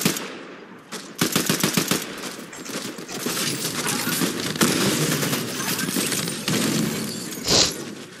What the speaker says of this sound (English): We're shooting at you.